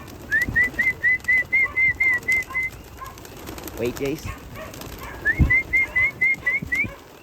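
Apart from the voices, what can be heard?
birds, pigeons, cooing after being called in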